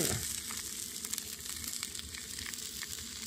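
Steady, crackling sizzle of chorizo frying in a pan, close and quiet, with faint stirring clicks and no talking.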